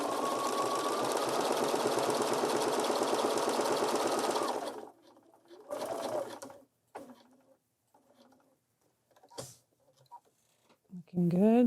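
A Bernina 475 sewing machine stitching a quilted candle mat runs in a steady, fast whirring burst for several seconds, then stops. Short, sparse single stitches and small handling noises follow, and a brief voice is heard near the end.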